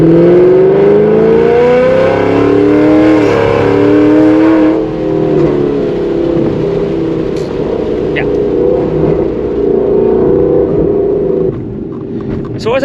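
A Ford Mustang S550 with an E85 tune and headers revs hard, its loud engine note sweeping up in pitch and then settling into a sustained roaring drone, with a few sharp clicks near the end.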